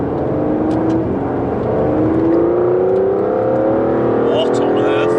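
An Aston Martin DBS Superleggera in Sport Plus mode, its engine pulling hard and climbing steadily in pitch as it accelerates, loud and close with cabin noise and a brief voice near the end.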